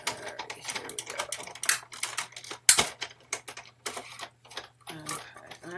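A Big Shot die-cutting machine cranking paper through, a fast uneven run of clicks and ratcheting taps with a louder crunch near the middle, close and without speech.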